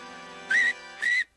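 Two sharp, loud whistle blasts, each lasting about a quarter second and separated by a short gap, standing out over a quiet tonal background in a cartoon.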